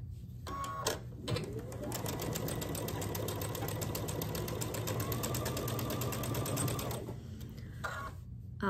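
A sewing machine runs in one long continuous burst, stitching quilt pieces together with a fast, even needle rhythm, close and clear, briefly stopping and starting at the ends.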